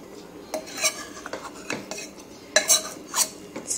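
A metal spoon gently turns cooked Thalapakatti-style chicken biryani in a pot, giving soft scattered scrapes and light clinks against the vessel, close and quiet with no talking.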